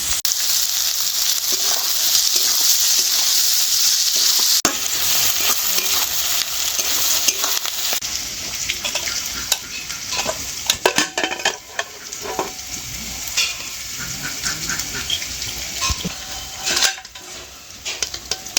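About 250 grams of onions fry in a pan for a Bengali mutton curry, a bright steady sizzle broken by bursts of stirring, spoon scrapes and clinks against the pan, with no talking.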